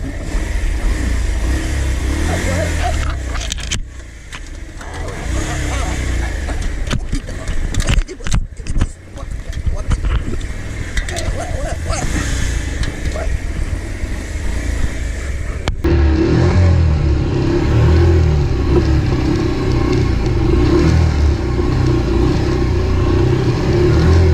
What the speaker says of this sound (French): Viens chauffer le moteur.